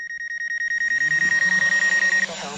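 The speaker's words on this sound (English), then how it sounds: "Just ignore that beeping sound." Rapid, evenly spaced electronic beeping, loud and close, running continuously for about two seconds before stopping, with a faint low hum beneath.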